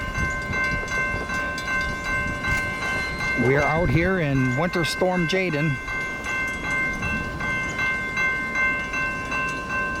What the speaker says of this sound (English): We have a westbound CSX train coming.